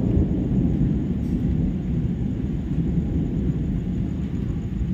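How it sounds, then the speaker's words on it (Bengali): Thunder rolling during heavy rain that has gone on for hours, a continuous deep low rumble with a steady rainy wash above it, sustained and fairly loud with no clear individual cracks. "বৃষ্টি হয়েই যাচ্ছে দু ঘন্টা ধরে, এখনও হচ্ছে আর মেঘ ডাকছে।"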